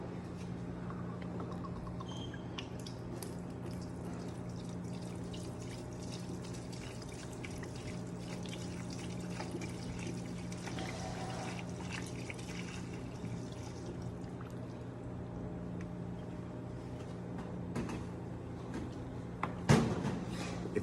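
Smooth Ambler bourbon pours from bottles into a 3-liter charred oak barrel, a faint, continuous trickle and splash that runs steadily for around twenty seconds, ending with a couple of brief knocks.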